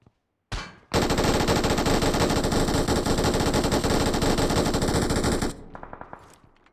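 A gun fires in the mobile shooter BGMI, one short shot followed by a single long, loud, unbroken burst of rapid automatic fire lasting several seconds, close and alone, then trailing off.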